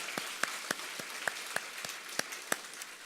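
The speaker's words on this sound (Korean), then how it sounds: "박수로 환영합니다" A church congregation at a Sunday worship service applauds to welcome newcomers, sparse individual claps sounding as distinct sharp snaps at a fairly even pace, somewhat distant and modest in volume.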